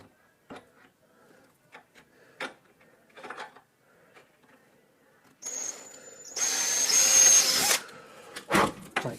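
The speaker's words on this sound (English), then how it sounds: "Drill a couple of little pilot holes" A cordless drill bores small pilot holes for the screws of a door keeper, whirring in two bursts that rise loud after a stretch of scattered clicks and handling taps close by.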